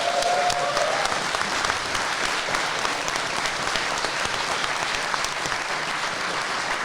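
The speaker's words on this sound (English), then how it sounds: "Everyone give yourself a round of applause." A live audience at a show bursts into sustained applause, a dense, even wash of clapping close up that carries steadily for nearly seven seconds.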